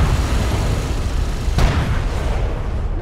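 A strike trap is destroyed in the Homeworld: Deserts of Kharak strategy game, a single sharp blast cutting through a dense, rumbling battle roar.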